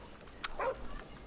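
Dog barks and yips in the Call of Duty: Modern Warfare campaign, a short faint burst of two or three quick calls over a low steady game background.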